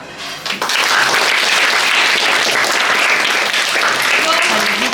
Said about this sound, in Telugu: just you must give him a big clap